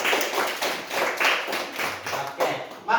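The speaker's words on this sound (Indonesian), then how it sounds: "tepuk tangan untuk kita tahu" A primary school class claps together in a classroom, a burst of quick, uneven applause from many hands that rises and falls over a few seconds, close and fairly loud with a little chatter mixed in.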